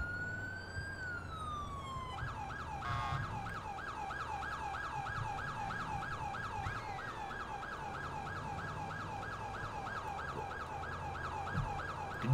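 An ambulance siren wails in the video game Grand Theft Auto IV. After one long rising-falling sweep, it switches to a fast repeating yelp that cycles steadily at close range over low traffic rumble.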